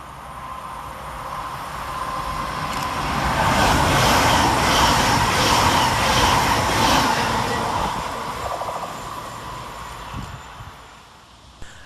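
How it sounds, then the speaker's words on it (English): A Transpennine Express Class 802 train passes through Huyton railway station, a loud sustained rumble and wheel roar that swells to a peak mid-pass, with faint clickety-clack, then fades, no talking. "And coming in the opposite direction of the Transpennine Express is 802-217, working 9 Mike 24 from Newcastle to Liverpool Lime Street."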